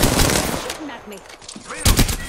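Rapid automatic gunfire rattles in Apex Legends, dense bursts at the start, a quieter stretch with scattered shots and small effects in the middle, then another loud burst near the end.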